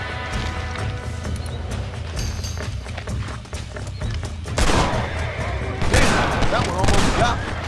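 A gunfight with bank robbers in the western game Red Dead Redemption, volleys of rapid shots crackling loud and close, bursts growing heavier in the second half, with hoofbeats and voices mixed in.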